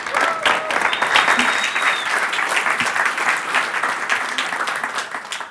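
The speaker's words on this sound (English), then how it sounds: "Can I have a round of applause for Dan Dackombe, Mixpanel." An audience at a business talk bursts into a steady round of applause, dense clapping that holds for several seconds before starting to thin out.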